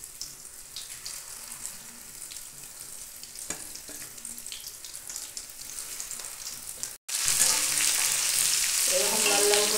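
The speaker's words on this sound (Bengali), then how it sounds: "এবার চিকেনগুলো ভেজে নেব।" Chicken pieces fry in a kadai pan with a soft, steady sizzle and scattered crackles; near the end a louder, brighter burst of hissing swells up, as if more pieces hit the hot oil.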